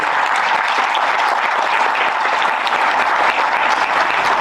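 Audience at an HR conference panel breaks into sustained applause, a dense, steady wash of many hands clapping at close range with no talk over it.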